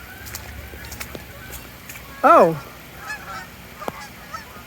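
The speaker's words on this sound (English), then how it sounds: "the geese are flying" Geese honk overhead in flight on a cold, rainy day: one loud, close burst of several stacked honks midway, then fainter calls farther off over a low outdoor background.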